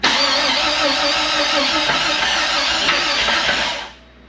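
A Jeep XJ engine cranks and fires up, a loud close continuous rough running roar that holds steady for a few seconds before cutting off abruptly near the end.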